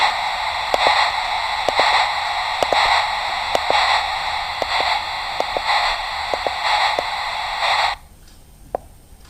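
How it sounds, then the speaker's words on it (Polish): Steady electronic white-noise hiss with humming tones from a plush soothing toy's small speaker, pulsing softly about once a second, then abruptly switching off near the end. "różowy, biały, szum wód płodowych"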